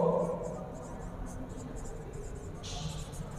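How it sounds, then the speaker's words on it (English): Marker or chalk writing out chemical compounds on a board during an organic chemistry lesson, a soft continuous scratching that runs under a low room hum and background noise throughout. "I can write the compounds"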